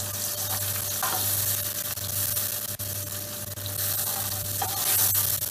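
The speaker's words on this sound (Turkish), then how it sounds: "Bunu domates suyunun içinde ezeceğim ve biraz pişireceğim." Tomato paste mashed into tomato juice cooks in a pan with a continuous hissing sizzle and bubbling, joined by a few soft scraping strokes, with no one talking.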